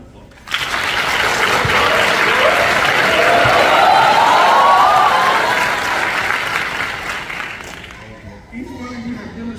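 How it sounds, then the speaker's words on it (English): A graduating class of correctional officers at a Tifton College Department of Corrections ceremony gets sustained applause and cheering. The crowd swells quickly, holds loud for several seconds, then fades as a voice returns near the end. "Let's give them another round of applause."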